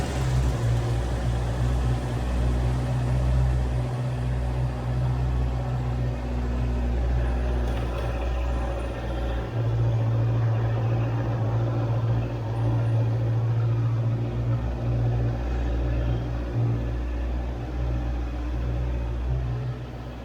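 A Honda CBR650R motorcycle engine on a night ride in India, running with a low, steady rumble that stays loud and even for the whole stretch.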